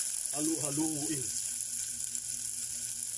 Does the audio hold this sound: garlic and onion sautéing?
yes